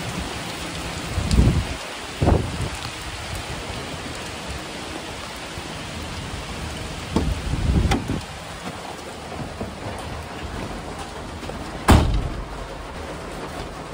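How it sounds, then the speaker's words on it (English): Heavy rain pours down steadily outside a converted school bus in Georgia, a dense hiss broken by several louder splashing gusts or bursts, with no voices. "There's no rain predicted, and now it's just downpouring so hard."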